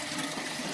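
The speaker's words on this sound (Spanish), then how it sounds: "miren cómo fluye el agua ahí" Water from a well flows in a steady, close gushing stream, a continuous broadband rush without pauses and with no voices over it.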